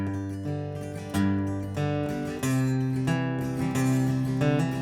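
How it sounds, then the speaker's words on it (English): Banjo picked in a jam-style rhythm with the bass strings added to accent the downbeat, bright plucked notes ringing over low thumped bass notes in a steady pattern, played solo and close. "Now if you add the bass strings, you get a downbeat."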